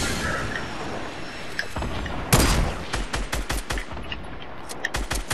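Rapid bursts of video game gunfire crack out in quick, irregular volleys after a quieter stretch of steady ambient noise, the shots sharp and fairly close.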